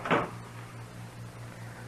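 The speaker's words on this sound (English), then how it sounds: "Shut the door, Chester." Door shut in an old western radio drama: a single sharp wooden thud at the very start, followed by a low steady hum with no further sound.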